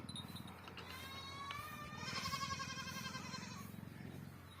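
A goat bleats a few times at a livestock market where breeding goats are being inspected, the cries fairly quiet against light background noise.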